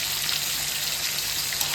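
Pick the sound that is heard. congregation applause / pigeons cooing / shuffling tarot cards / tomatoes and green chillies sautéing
tomatoes and green chillies sautéing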